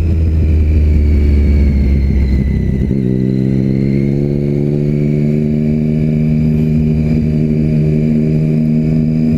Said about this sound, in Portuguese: Esse é o G-Escape GP Carbon. Esse é o carinha que tá roncando aqui.